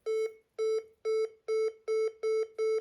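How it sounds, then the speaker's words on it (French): A Eufy home alarm system sounds a loud, clean, repeating electronic tone. Seven evenly spaced beeps come about half a second apart, and no voices are heard. "Là encore, on entend un bip sonore, puis l'alarme retentit."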